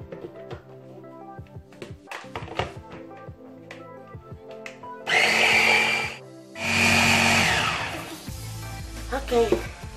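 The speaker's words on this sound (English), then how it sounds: "I'm gonna add some more water and blend again for the second time." Kitchen blender whirring through coconut pieces and water in two loud bursts of about a second each, between clattering and tapping sounds of preparation, with a low rumbling burst near the end.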